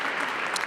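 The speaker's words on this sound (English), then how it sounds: "Oh, I get a clap for graduation?" Audience applause at a graduation awards ceremony, a dense, steady wash of clapping that holds evenly for under a second at a moderate level, with no voices over it.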